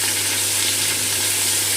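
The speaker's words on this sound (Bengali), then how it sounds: "নুন হলুদটা পটলের সাথে মিশিয়ে নিয়ে পটলটা ভেজে নেব" Pointed gourd frying in a pan with salt and turmeric gives a steady, dense sizzle that holds at an even, fairly loud level for the whole short stretch, with no voices.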